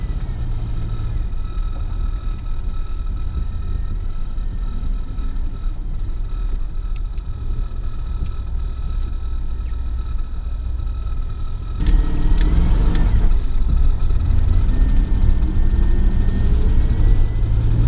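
A 1990 Jeep Grand Wagoneer engine fitted with FiTech fuel injection runs steadily with a low, continuous rumble. About midway it grows slightly louder and rougher, as if the revs rise, then keeps going to the end.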